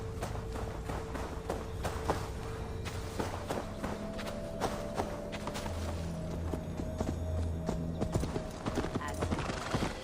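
A horse's hooves clip-clop at a steady walking-to-trotting rhythm through an untamed Gloucestershire forest in the game Assassin's Creed Valhalla, close and continuous over low ambient music.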